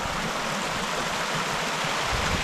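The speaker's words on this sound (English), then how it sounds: "Time to stop at a little spot just to sit and listen to the river for a while." A river flowing steadily, a continuous rushing wash of water close by with no voices, heard while stopped beside it on a hike.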